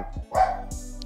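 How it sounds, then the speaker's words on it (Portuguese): Dogs bark a few times in quick succession, close and fairly loud, short sharp barks over a low steady background hum. "Cachorras."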